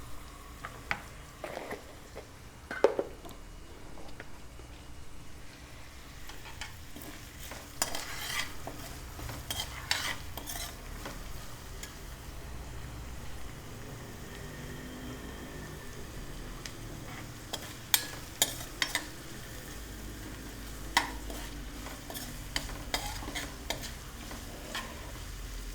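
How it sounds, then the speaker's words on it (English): Onions fry over a medium flame in a pan, giving a steady sizzle while a utensil stirs them with occasional scrapes and clinks against the pan. "Fry it, medium flame."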